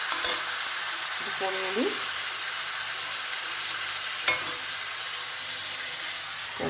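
Meat frying in a pan sizzles loudly and steadily, with a few short scraping stirs early on and a soft clack midway. A voice speaks briefly over it.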